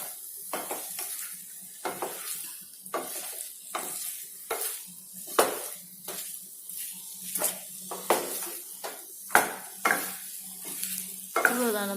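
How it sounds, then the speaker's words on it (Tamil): Cauliflower Manchurian being stirred with coriander and spring onion in a pan: repeated scraping, clattering stirring strokes roughly every second over a faint sizzle, close and clear, with no talking. "எல்லாத்தையும் சேர்த்து நல்லா கலந்து விட்டுக்கணும்."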